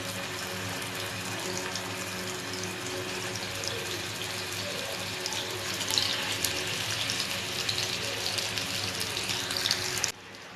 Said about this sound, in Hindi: स्लो टू मीडियम फ्लेम पे मैं इसे फ्राई करूँगी